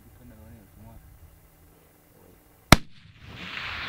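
A single sharp rifle shot cracks out during a Colorado elk hunt, loud and sudden after quiet talk and whispering, followed by a fading rumble and hiss.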